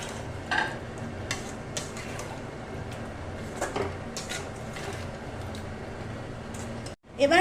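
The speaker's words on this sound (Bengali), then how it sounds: "এবার আমি এর মধ্যে দিয়ে দিচ্ছি এই সেদ্ধ করে রাখা আলুটা" Boiled potatoes go into a pan of green aloo dum and are stirred, with soft sizzling under scattered spoon-on-pan clinks and scrapes, and a louder clatter at the very end.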